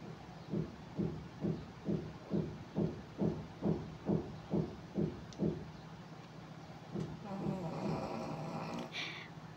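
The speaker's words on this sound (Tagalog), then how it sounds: "Pasensya na po kayo sa hilik ni Sugar." Rhythmic snoring close by, about a dozen regular breaths that trail off, followed by faint rustling and hiss.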